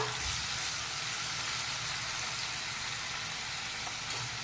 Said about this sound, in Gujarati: હવે તેલ થાય એટલે આ પનીરના ક્યુબ અંદર એડ કરી દઈશું.